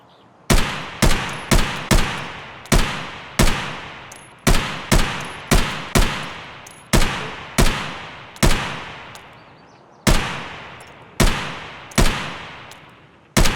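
Repeated single gunshots in the video game Escape from Tarkov, loud and sharp, each with a decaying echo tail, spaced irregularly in quick pairs and singles across the stretch with no talk.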